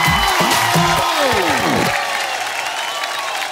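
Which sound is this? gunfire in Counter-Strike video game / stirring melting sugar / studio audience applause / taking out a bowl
studio audience applause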